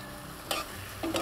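Shrimp and string beans sautéing in a pan for a home-cooked dish, with a quiet steady sizzle and two short bursts of stirring or scraping near the end.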